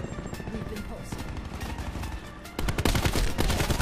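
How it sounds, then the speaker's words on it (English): Rapid bursts of gunfire from a Black Ops 4 multiplayer match, dense and continuous, growing louder and heavier in the last second as more shots overlap. "Oh, they shot me through the window."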